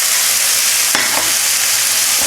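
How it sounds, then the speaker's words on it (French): Beef broth hits a hot pan of Sichuan-style stir-fried beef, giving a loud, steady, close sizzle with a brief splash and scrape of stirring partway through; no voices. "on va quand même humidifier la préparation avec du bouillon de bœuf"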